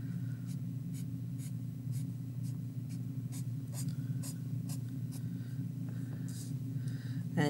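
Pen or pencil strokes on paper while drawing short lines radiating around a rabbit's eye, a series of quick, light scratches repeating over a steady low hum, with no talking.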